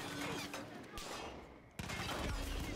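Dense bursts of rapid gunfire in the video game Far Cry 5, loud and continuous with a brief lull, up close.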